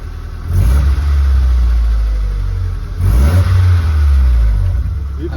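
A car engine roars through a rewelded steel exhaust pipe in two loud revs with a dip between them, a close, rumbling bark with a raspy edge.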